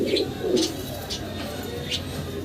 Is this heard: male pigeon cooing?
yes